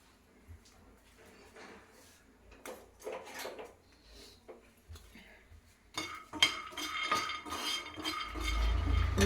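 Peanuts roast in a pan for gravy, starting with quiet clinks and scrapes of the pan and spoon, then building into a louder, steady rattling sizzle near the end.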